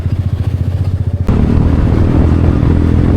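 A Kymco Xciting 400VS motor scooter rides on a highway, its engine first pulsing in rapid, even beats, then merging into a loud, steady roar of engine and wind.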